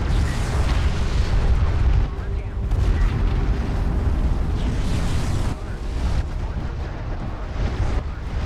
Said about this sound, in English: artillery is actually doing a lot of friendly fire here